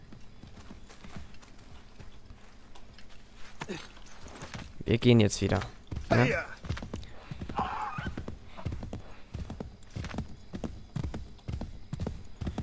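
Horse hooves clip-clopping in the Assassin's Creed 3 video game, a steady rhythm of close hoofbeats with a whinny, while someone talks over them in German.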